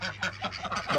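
Ducks quacking repeatedly at close range as they demand food from someone who has just come home, a busy run of overlapping calls filling the whole moment.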